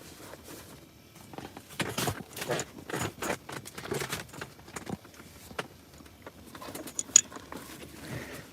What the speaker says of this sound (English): I'm digging through my tackle box to try to find a couple things I need.